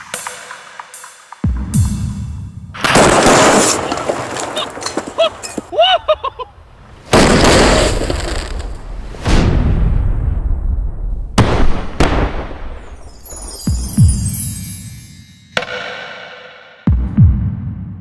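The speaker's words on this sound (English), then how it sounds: "this explosion will throw the laptops into the air and engulf them with a fireball" Several loud explosive bursts and booming blasts follow one another, with roaring rumble and crackling debris between them, as explosives and fuel blow Panasonic Toughbook laptops into the air in a fireball.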